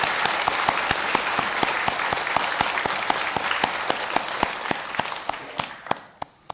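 Congregation at a prayer house gathering claps in a steady wash of applause with a few sharp individual claps standing out, thinning and fading out at the end.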